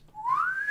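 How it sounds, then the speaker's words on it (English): In The Last of Us Part II, an enemy faction member gives a single short, clear whistle that glides upward in pitch, heard alone against near silence. "They communicate by whistling."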